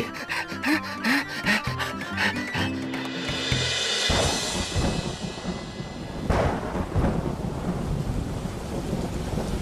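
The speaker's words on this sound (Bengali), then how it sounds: "এ তো বৃষ্টি এসে গেল" A heavy thunderstorm breaks: a deep rolling thunder rumble builds, then dense rain pours down steadily, loud and close, with a brief gasp-like voice near the start.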